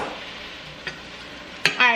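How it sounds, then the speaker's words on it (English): Italian seasoning is stirred into food browning in a pot for Zuppa Toscana soup, a soft steady sizzle broken by a light scrape, then a sharp clank of a utensil and a burst of louder stirring at the end. "put those seasonings in there, give that just a stir, and we are just going to let this brown"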